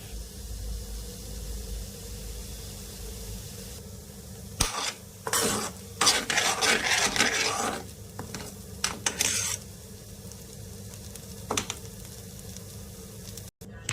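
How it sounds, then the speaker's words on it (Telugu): Grains being dry roasted in a kadai for baby food, with a soft background hiss broken by bursts of stirring and scraping against the pan, near and without talk. "కళాయిలో అయితే ఫ్రై చేస్తున్నాను"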